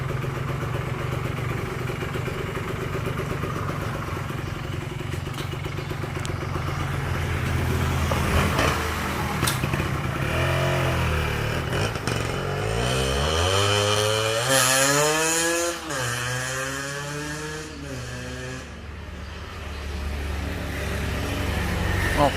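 Kawasaki Ninja R motorcycle engine on a test drive, a steady buzzing drone that swells into rising and falling revs midway as the bike accelerates and eases off, loud and close throughout.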